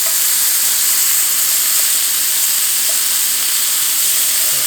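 Scallops sear in a hot pan, giving an even, continuous sizzling hiss that stays loud and unbroken throughout, with no talking.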